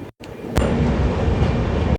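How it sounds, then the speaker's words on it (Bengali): The Kanyakumari–Howrah Superfast Express rushes past close by at night, a loud continuous rumble of wheels and carriages after a brief gap. "আমাদেরকে ক্রস করে হাওড়ার দিকে চলে যাচ্ছে down one two triple six Kanyakumari Howrah superfast express"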